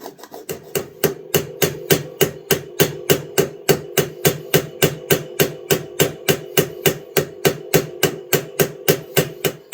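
A hammer strikes a pin head over and over to flatten it, a close, even run of sharp metallic taps at roughly three per second that carries on for the whole stretch with no voices.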